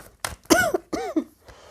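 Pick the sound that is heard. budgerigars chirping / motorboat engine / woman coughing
woman coughing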